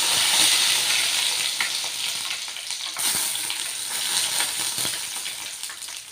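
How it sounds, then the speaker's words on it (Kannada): Mustard seeds and curry leaves spit and sizzle in hot oil for a South Indian tempering, a steady loud frying hiss with crackling pops throughout and no voices. "ಇವಾಗ ಇದಕ್ಕೆ ಸಾಸಿವೆ ಹಾಕ್ಕೊತಾ ಇದ್ದೀನಿ, ಮೆಣಸಿಗೆ ಕರಿಬೇವು ಸೊಪ್ಪು ಹಾಕ್ಕೊತಾ ಇದ್ದೀನಿ."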